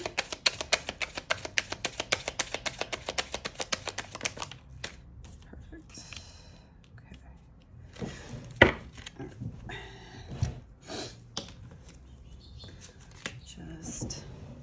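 Tarot cards are slipped back into the deck and shuffled, a quick run of soft, crisp card riffles and taps, close and fairly quiet, giving way to scattered handling sounds and a soft voice.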